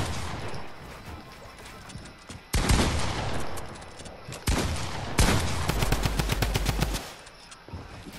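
Bursts of automatic gunfire during a 1v1 fight in Fortnite, loud rapid volleys in several separate bursts with short gaps between them, and faint talk in the background.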